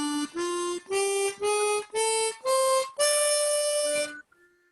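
A blues scale on chromatic harmonica, seven separate notes stepping upward one after another, the last held longer, then a brief lower tone and a faint final note, played alone at close range.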